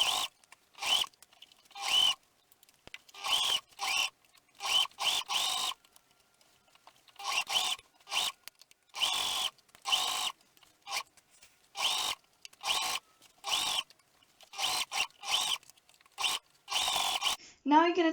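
A home sewing machine stitches shirt fabric along a pinned top edge in repeated short motor bursts separated by brief pauses, close and fairly quiet, with a sharper whir near the end.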